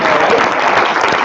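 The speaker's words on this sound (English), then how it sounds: "Now you can applaud" Audience applause at a campus food day celebration, a brief burst of dense, loud clapping that holds steady from start to finish.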